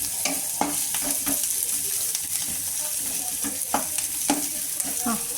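Onions sizzling in hot oil in a home kitchen pan, frying toward golden, with a steady hiss under scattered scraping stirs and metallic clicks of the spoon, close by and without talk.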